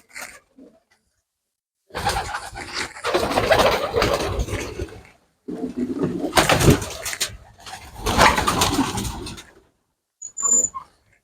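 Pigeons coo in low, throaty bursts inside a dovecote, several birds calling in overlapping waves with short quiet gaps between.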